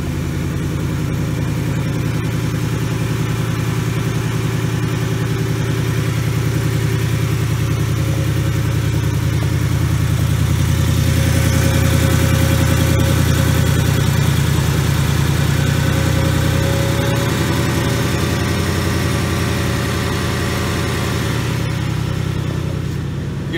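A 750 hp 2018 Mustang GT V8 engine idles steadily and close up, a deep continuous rumble with a slight swell in loudness midway, no voices.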